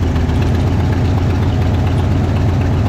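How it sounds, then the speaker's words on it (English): Rough, loud idle of a Pontiac LeMans V8 missing at least one cylinder, a steady low rumble with an uneven, lumpy pulse, close by and with no talk. "Sounds like we're missing at least one cylinder."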